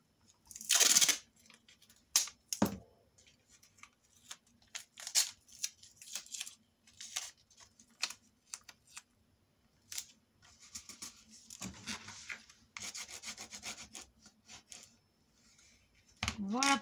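Adhesive tape pulled and pressed onto a paper page of a handmade Christmas mini album, sharp bursts of tearing and crinkling scattered through quiet gaps, close and intermittent, with brief soft handling sounds between.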